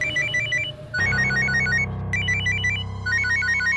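A phone ringtone plays a repeating melodic chime pattern over a steady low background hum, loud and close, continuing throughout.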